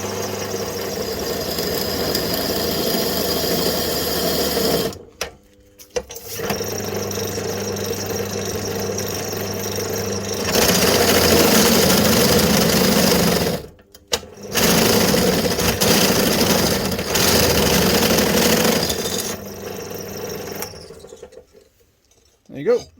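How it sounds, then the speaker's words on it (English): A freshly sharpened drill bit bores a hole in a house restoration job, a steady loud motor whine with short pauses between runs, and a voice talks over it. "Okay, so you can see how the drill bit will cut now."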